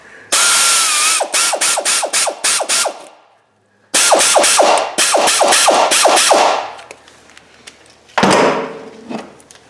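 Ratchet wrench tightening a replacement starter bolt on a Pontiac Torrent: rapid, loud clicking runs in several close bursts, separated by short pauses, with no talk.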